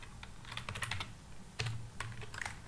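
Code is typed on a computer keyboard, with quick clusters of close, crisp key clicks and a few brief pauses between bursts.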